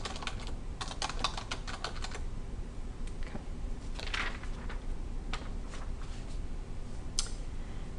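Someone types on a computer keyboard while entering text into a document, with a steady stream of light, close clicking keystrokes in irregular bursts and no talking.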